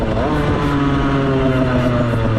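A Derbi GPR 50cc motorcycle engine runs steadily and close by, its buzzing pitch rising and falling slightly with small throttle changes throughout, with no talk over it.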